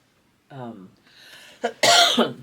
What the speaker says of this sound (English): I'm gonna keep coughing.